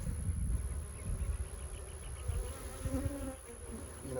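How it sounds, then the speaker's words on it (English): Dense buzzing of many honey bees close by at a hive, a continuous droning hum with shifting pitch, no talking. "Just bees everywhere."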